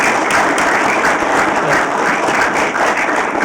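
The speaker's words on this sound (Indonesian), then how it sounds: "Tepuk tangan untuk Farouk Afero." An audience applauds Farouk Afero, with dense, loud clapping that holds steady and unbroken throughout.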